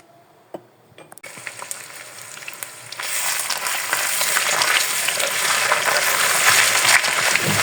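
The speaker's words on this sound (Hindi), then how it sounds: "लहसुन अदरक का पेस्ट ये देखिए अच्छी तरह फ्राई हो गया" Garlic ginger paste drops into hot oil after a few stirring clinks, then bursts into a loud, steady, crackling sizzle that builds and holds close by.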